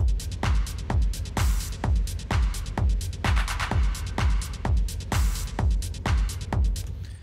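A techno loop plays back with a punchy four-on-the-floor kick pounding at a steady fast tempo, layered with crisp hats and bright synth textures, loud and continuous with no voices.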